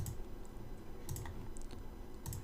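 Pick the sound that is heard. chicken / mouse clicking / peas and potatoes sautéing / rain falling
mouse clicking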